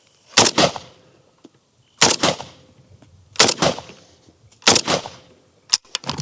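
An AK-47 fires 7.62x39 rounds, four loud sharp reports spaced about a second and a half apart, each with a quick echoing tail, followed by a fifth shorter crack at the end.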